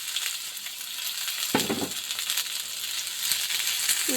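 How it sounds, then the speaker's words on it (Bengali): Chopped onions frying in mustard oil in a frying pan, a steady loud sizzle throughout with a burst of crackling and stirring scrapes partway, no voices. "এখন ফ্রাই প্যানে আবার অল্প করে সরিষার তেল দিয়ে দেব। তারপর আমি পেঁয়াজ কুচিগুলো দিয়ে দেবো।"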